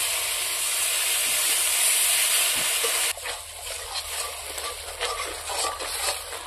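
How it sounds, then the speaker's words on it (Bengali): Cumin, ginger, dried chilli and black pepper hit hot oil after fried onions in a pan for a silver carp curry, a loud steady hiss that drops abruptly midway into quieter crackling sizzle with occasional stirring. "এখন আমি জিরা, আদা, শুকনো লঙ্কা, গোলমরিচ দিয়ে দেবো।"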